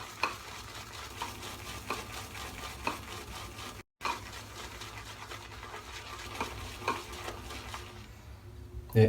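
Soap Commander Courage shaving soap being lathered in a bowl with a brush, a steady close wet swishing and slapping churn running continuously, with a brief gap midway and no talking.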